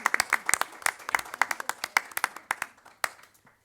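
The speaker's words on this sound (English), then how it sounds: "Let's give Scarlett a big round of applause and the rest of the panel." A conference audience applauds a sustainability panel with crisp, close individual claps that pile into a lively patter, then thin out and fade over a few seconds.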